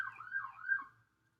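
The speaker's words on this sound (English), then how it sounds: "sorry for the siren" A siren wails outdoors, a wavering electronic tone rising and falling for about a second before cutting out, fairly faint and with no talking over it.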